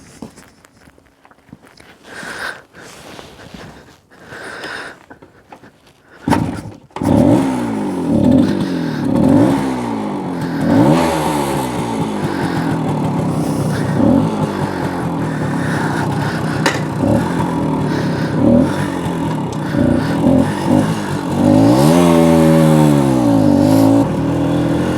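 A small Suzuki K10P motorcycle is ridden. Sparse clicks and knocks come first, then the engine starts and runs steadily up close, rising and falling in pitch with repeated revving and gear changes.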